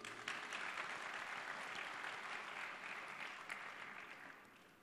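An audience at a panel discussion on Indonesia's future breaks into a steady round of applause that stays fairly soft and distant, fading gradually toward the end.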